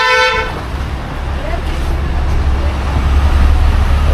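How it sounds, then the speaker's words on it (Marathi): A vehicle horn gives one short, loud blast at the very start on a busy road near a temple town, then fades into a steady low rumble of passing traffic. "जोरात हॉर्न वाजवतोय प्वां करून"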